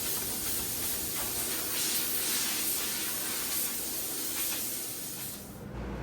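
Compressed air hisses steadily and loudly as it blows dust off a pinball machine cabinet, one continuous close blast that fades away at the very end.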